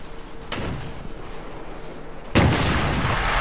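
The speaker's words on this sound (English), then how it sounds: "Some explosions coming down there." Two sudden booming blasts in the war game Combat Mission: Market Garden, the second louder and sharper, with a dense roar and rumble carrying on after each one.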